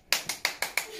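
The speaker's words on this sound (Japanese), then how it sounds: "みんな拍手" Group of children clapping together at a birthday celebration in a classroom, five quick sharp claps in an even rhythm, close and distinct.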